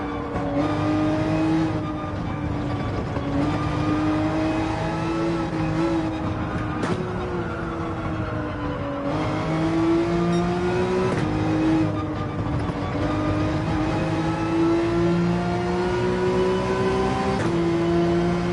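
Porsche 911 race car in Gran Turismo 7, a loud engine note rising through the gears in repeated climbs with brief drops at each shift, steady and close with no voices.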